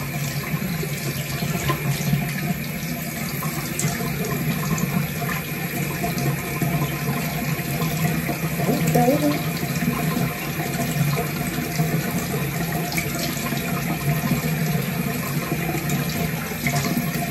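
Tap water runs steadily into a sink, a constant close splashing hiss that continues unbroken throughout.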